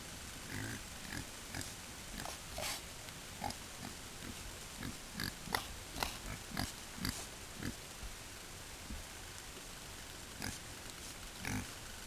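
A pig grunts and oinks in short, irregular bursts, close and fairly clear, with quiet pauses between the calls.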